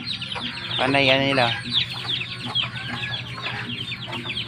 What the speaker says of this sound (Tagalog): Maingay mga kasi yung gansa pagkalat pag ibang tao.